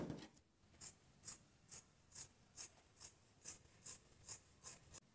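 Scissors snip through teddy coat fabric in a steady series of about ten crisp, evenly spaced cuts, close and quiet.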